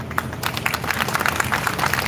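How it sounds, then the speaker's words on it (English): A crowd applauds at a live real estate launch event for DLF Privana North, with dense, continuous clapping at moderate loudness and no voices. "I think it needs a big round of applause"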